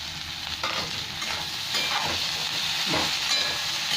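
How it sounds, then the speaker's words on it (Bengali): Sliced bitter gourd frying with a little turmeric in a pan, a dense continuous sizzle with a few soft stirring scrapes, close and alone. "এবার আস্তে আস্তে ভাজা হবে।"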